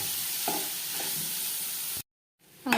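Boiled potatoes being stirred into a hot pan for aloo tikki, with a steady sizzle and a couple of soft scraping stirs, then a brief silence before a louder scrape.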